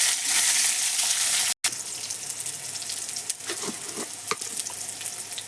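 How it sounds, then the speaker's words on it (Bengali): Eggplant frying in a pan with cumin and crushed garlic, a steady close hiss of oil that cuts out for a split second, then carries on with scattered clicks and scrapes of stirring. "এর মধ্যে বেগুনটা দিয়ে দেবো। দিয়ে ভালোভাবে নাড়াচাড়া করে দেবো।"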